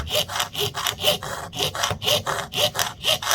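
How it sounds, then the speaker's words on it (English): Rhythmic back-and-forth sawing with a jeweler's saw cutting out a letter keychain, steady close strokes about three per second, raspy and bright, no voices. "that I'm sawing away from myself here."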